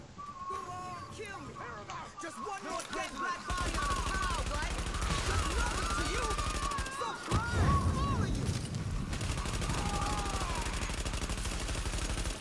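Automatic gunfire in the video game The Division, sustained bursts of rattling shots and firefight noise throughout, with someone talking over much of it.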